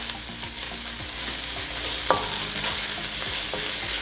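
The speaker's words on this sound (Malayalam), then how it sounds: "ഇനി നമുക്ക് ഇതിലേക്ക് ഇഞ്ചി വെളുത്തുള്ളി ചതച്ചത് ചേർക്കാം. എന്നിട്ട് നന്നായിട്ടൊന്ന് വഴറ്റി കൊടുക്കാം" Onion, green chilli and crushed ginger and garlic sauté for a coconut milk pulao, a steady close sizzle under occasional stirring scrapes and light clinks against the pan.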